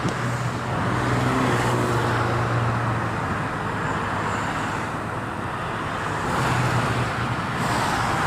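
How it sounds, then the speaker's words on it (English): Steady freeway traffic roars in a constant wash of tire and engine noise, with a couple of louder vehicles swelling as they pass nearby. "And here's the traffic, right?"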